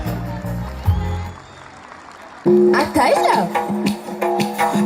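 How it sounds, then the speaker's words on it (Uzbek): An audience at a Navruz celebration in Bulung'ur district applauds. The clapping swells sharply halfway through and mixes with loud stage music and amplified sound. "bulung'urliklar qarsaklarni baralla chalsak arziydi"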